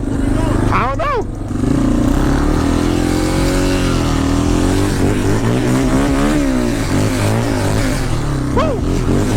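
A Suzuki LTZ400 ATV engine revving in deep snow, loud and close, with rising and falling throttle sweeps over a steady rumble while people talk over it.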